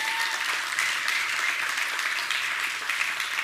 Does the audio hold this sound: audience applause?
yes